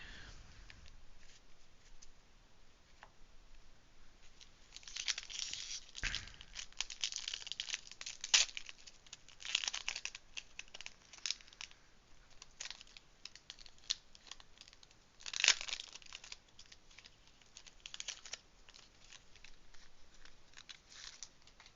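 Disney Lorcana trading card packs are torn open and unpacked, with repeated crinkling foil wrappers, sharp rips and rustling handling of cards up close, continuing at an irregular pace.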